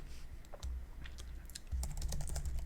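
Typing on a computer keyboard in the Nano text editor inside a Bash shell on Windows 10, a steady run of close, light key clicks with a low hum underneath.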